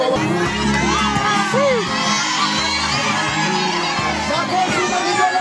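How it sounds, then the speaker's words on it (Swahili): A wedding crowd gathered on an open ground cheers loudly and continuously, with high wavering ululation cries and children's shouts rising over a dense hubbub of voices. "makofi na vigelegele na watu."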